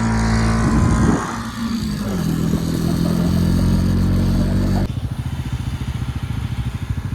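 A motorcycle rolls up to its parking spot at a mountain stop in Uttarakhand, engine rumbling loudly and close, then settling into a steady, pulsing idle.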